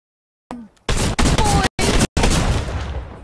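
Rapid bursts of video game gunfire, several loud close volleys separated by brief gaps, with a short voice at the start.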